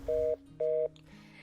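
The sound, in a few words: telephone call disconnected, busy signal on radio drama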